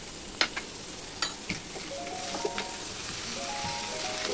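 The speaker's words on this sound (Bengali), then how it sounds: "একটু ভেজে নিব যতক্ষণ পটলগুলো নরম না হয়ে আসে" Pointed gourd fries in a pan with turmeric and salt, giving a constant soft sizzle broken by a few light clinks and scraping stirs, close and steady with no talking.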